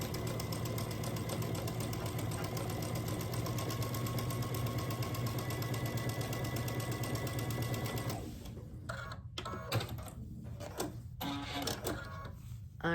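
A sewing machine runs a continuous quarter-inch seam through quilt block pieces: a fast, steady mechanical whir for about eight seconds, then it stops and leaves quieter handling sounds.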